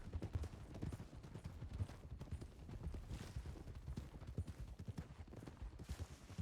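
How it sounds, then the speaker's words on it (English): Horse hooves clip-clopping along train tracks in the Red Dead RP western video game WildRP near Barton Fields, a steady rhythmic patter of close, moderately loud hoofbeats continuing throughout with faint background rumble. "Horse on the tracks"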